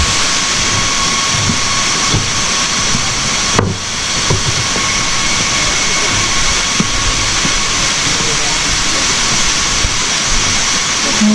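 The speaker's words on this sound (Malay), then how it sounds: "Air ni mengalir dan jatuh ke bawah jadi air terjun." Constant roaring hiss of falling water at a blue waterfall in Laos, loud and unbroken, with a brief dip in level partway through.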